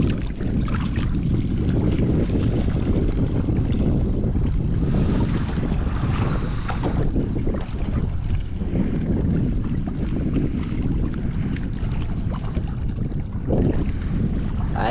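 Strong wind buffets the microphone without a break by the sea, a loud roaring rumble with waves and surf mixed in beneath it.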